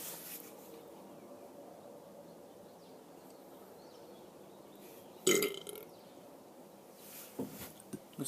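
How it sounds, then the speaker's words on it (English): A single loud burp erupts close to the microphone after a quiet stretch, followed a couple of seconds later by smaller throaty noises. "I'm just gonna start burping again, no more talking."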